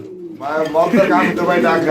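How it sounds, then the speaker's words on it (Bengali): Soft, throaty homing pigeon cooing close by, a low rolling call that swells and repeats across the short clip. "হোমা কবুতর এমন করে ডাকে"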